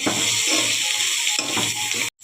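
Sliced capsicum frying in a pan for a chicken curry, a steady hiss of sizzling with stirring scrapes, loud and close, cutting off briefly near the end.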